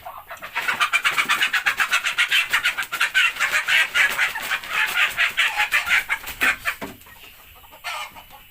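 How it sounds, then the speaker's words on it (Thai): Several chickens cluck and squawk loudly and continuously in rapid, agitated bursts as one is being caught, close by, then fade at the end with no talking. "จับไก่สงสัยอยากกินต้มไก่เลย"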